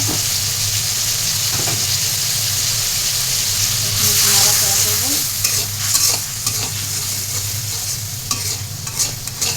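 Chili powder and spices frying and being stirred in a pan for rui fish cooked with eggplant, a steady close sizzle with scraping stirs throughout, swelling louder midway.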